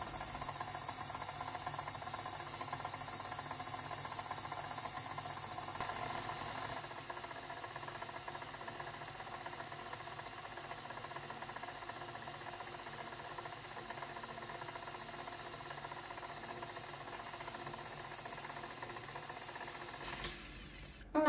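A food processor blends pumpkin pie filling in its bowl with a steady, even whirring hiss that runs close and constant for about twenty seconds, then cuts off abruptly.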